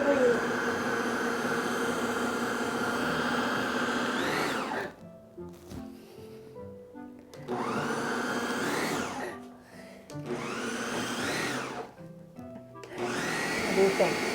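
A food processor blends white bean chocolate muffin batter, its loud whirring motor running in three long bursts with brief pauses, the pitch dipping as each burst winds down. Quieter sounds fill the gaps.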